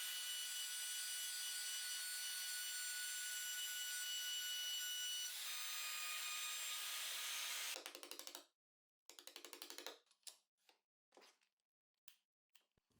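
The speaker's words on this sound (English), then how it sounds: "I'll use a plunge router and a piece of wood as a guide." A plunge router cutting grooves in wood along a wooden guide gives a steady high-pitched whine that drops in tone midway, then breaks into short bursts as it spins down.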